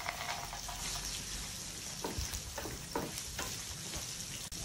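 Cashew nuts fry in hot oil in a pan with hing and turmeric powder, a steady close sizzle broken by several stirring scrapes and soft taps of a spoon against the pan.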